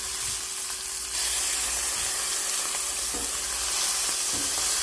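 Bacon fries in a skillet with a steady, close sizzle and a soft continuous hiss, growing a little louder after the first second.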